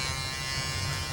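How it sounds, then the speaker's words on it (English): An electric shaver buzzes continuously and loudly up close for a brief moment while Mr. Bean shaves, a steady motor drone with no pauses. "This is how Mr. Bean shaves."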